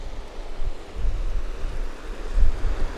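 Sea waves washing the shore beside the Shiroyone Senmaida rice terraces in Noto, a steady low rumble of surf with gusty wind buffeting the microphone and gentle swells rising and falling.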